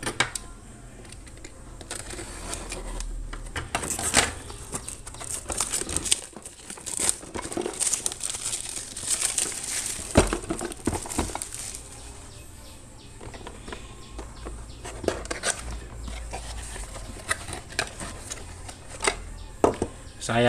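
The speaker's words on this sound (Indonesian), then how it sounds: "Oke, langsung saja ini saya buka dulu. Ini masih terbungkus plastik." Plastic wrapping being crinkled and pulled off a new MPOIN HM-70AB automatic water level control switch for a water tank, close, continuous rustling and crackling with sharper tearing snaps, while someone talks.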